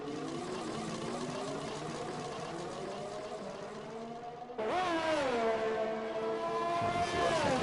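Race car engines scream in a Singapore Grand Prix racing game, rising and falling through gears, with a second car's sharper whine cutting in midway over a continuous high-revving drone.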